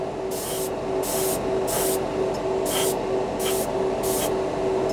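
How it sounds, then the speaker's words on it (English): A cheap Harbor Freight airbrush, run from its bundled compressor, sprays paint in six evenly spaced hissing bursts, each lasting about half a second, with a steady compressor hum running underneath throughout. "It's literally it's like having a customizable spray can."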